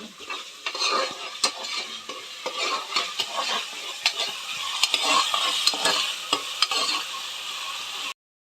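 Onions and green chillies fry in oil for a mutton curry. A close, steady sizzle runs under repeated sharp scrapes and clinks of a spoon stirring against the pan, then the sound cuts off abruptly.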